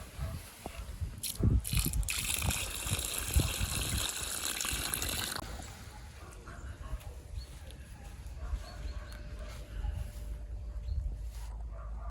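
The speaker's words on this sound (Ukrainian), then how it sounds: "І проливаємо нашу троянду водою з укорінювачем, який у нас залишився, для того, щоб гарно ущільнився ґрунт." Water from a watering can or hose gushes and splashes onto soil around a newly planted rose in autumn, using water mixed with rooting solution; a loud, continuous pour for several seconds, then quieter rustling and background noise.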